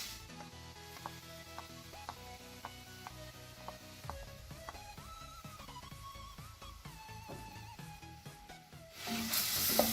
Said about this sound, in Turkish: Soğanımızı iyice kavuracağız.